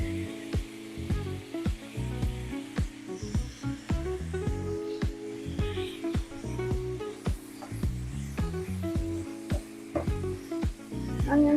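Onions frying in a heavy frying pan for Asian chicken noodles, a steady close sizzle overlaid with frequent sharp clacks and scrapes of stirring throughout, no talking.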